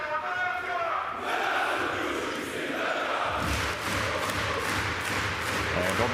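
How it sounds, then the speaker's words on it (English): Basketball arena crowd at a Champions League game between Rytas Vilnius and Ofek Dist Herzliya, a loud, continuous roar of cheering and chanting that swells after the first seconds, with rhythmic stomping or clapping bursts underneath. "They're making some noise, let me tell you."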